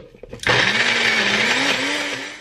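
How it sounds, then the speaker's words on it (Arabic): An electric machine grinding chickpeas kicks on abruptly after a few faint clicks, then runs as a loud, steady whirring roar with a slightly wavering motor pitch. "غنطحنه في الاول لوحده، وعفوا لان هاد الماكينه فيها يعني ضجيج كثير."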